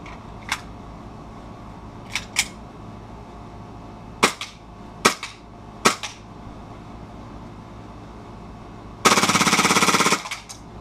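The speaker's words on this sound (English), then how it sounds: "you can put it down, and you can go fully automatic, and it'll empty the whole magazine" An airsoft gun switched to fully automatic empties its magazine (standard mag holds 20 plus 1) in one dense, loud burst of about a second, after several scattered sharp single clicks and handling knocks.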